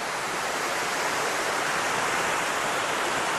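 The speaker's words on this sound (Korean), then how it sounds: "이제 상류 쪽으로 오니까 저렇게 아주 멋진 폭포도 보이고" A waterfall in a canyon pours steadily, a broad, even rushing hiss of falling water with no pauses, heard alone at moderate distance.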